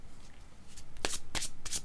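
Playing cards for a card reading are shuffled in a few quick riffling bursts, close and fairly quiet, with no talk.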